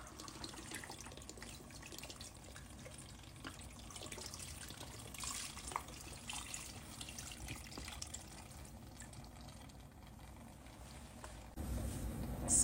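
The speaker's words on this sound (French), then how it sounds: "Je verse 1 litre de jus de coco." Coconut juice is poured into a cooking pot while making bò kho, a Vietnamese beef and carrot stew. The pouring makes a faint, steady liquid stream that runs for several seconds and swells slightly near the end.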